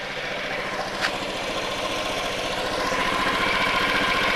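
A motor engine idling and being revved during idle and rpm adjustment, a steady close mechanical drone with a slight rise in pitch and one brief tick early on, no talking.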